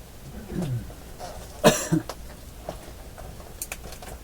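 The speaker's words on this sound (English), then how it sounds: "I'm coughing now." A single close cough stands out against quiet room noise, with a soft throat sound just before and faint small noises after.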